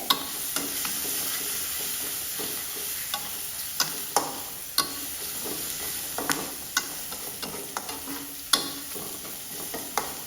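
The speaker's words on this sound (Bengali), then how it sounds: "এবার রসুনটাকেও একটু ভাজা ভাজা করে নিব তেলের মধ্যে" Garlic paste fries in oil with a steady, moderate sizzle, and small clicks and taps from stirring come through at irregular intervals; nobody speaks.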